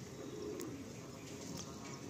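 A pigeon in an old-generation pigeon loft in Kolkata coos softly, its low murmuring calls faint beneath a quiet background hum.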